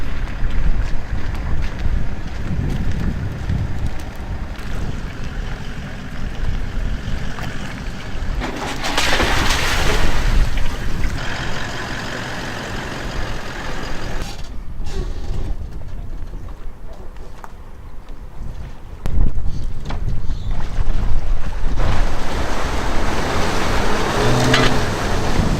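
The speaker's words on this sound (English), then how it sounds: "Well, we finally got the boat in the water." A boat being launched near Cooktown, with heavy wind buffeting the microphone, water and engine-like rumble, and clattering knocks throughout; the noise swells and drops in several loud stretches, with people talking at times.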